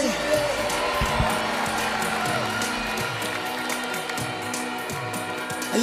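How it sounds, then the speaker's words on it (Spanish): A large crowd applauds and cheers at a live Christian worship concert in Estadio Cuscatlán, El Salvador; the dense, steady roar of clapping runs throughout, blended with loud band music and amplified voices. "Dale fuerte ese aplauso al rey."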